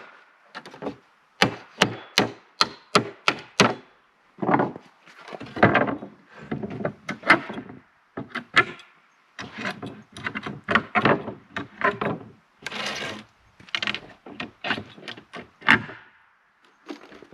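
Wooden pallet boards, some of them oak, being knocked apart by hand, giving a long series of sharp, close knocks and cracks in quick bursts with short pauses between them.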